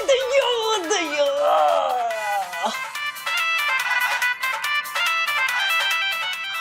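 A melodic phone ringtone plays steadily for several seconds, close and clear, with a voice briefly over its start.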